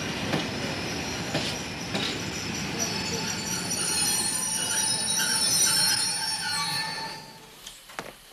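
A train runs along the nineteenth-century Porrettana railway across the Apennines, carrying a sleeping car; steady rolling rumble with wheel squeal and metallic tones, fading near the end with a few clicks.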